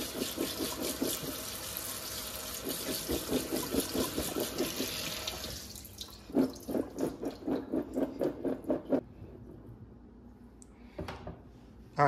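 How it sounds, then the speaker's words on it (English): Blueberries being washed under running water, with a rhythmic series of splashing, sloshing bursts that grow more distinct and pulsing in the second half before fading to near silence, ending in a short knock. "Now the next step we're gonna go through is actually we're gonna show you how we wash them."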